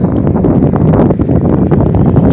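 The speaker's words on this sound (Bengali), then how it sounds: "সাথে রয়েছে বাতাস, ঠান্ডা শীতল হয়ে যায় গা" Strong wind gusting by the bank of the Monai river as Cyclone Amphan approaches, a loud, steady roar of buffeting air against the microphone with rustling throughout, no voices.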